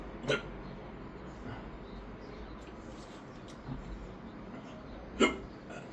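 A person who has been eating spicy rice hiccups twice, a brief catch near the start and a stronger one about five seconds later, with faint room noise between them.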